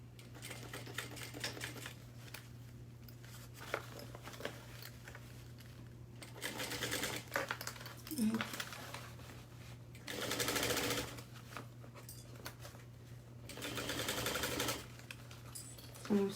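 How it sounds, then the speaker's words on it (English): A sewing machine stitching a fabric seam at 5/8 inch, running in several separate rapid buzzing bursts with quiet pauses between and a steady low hum underneath. "I'm sewing this at 5/8 of an inch, making sure that when I adjust, my needle is down."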